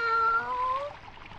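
A cat meows in a German radio play, a short tonal call with a sliding pitch that fades over its last half second, close and fairly loud with no talk over it.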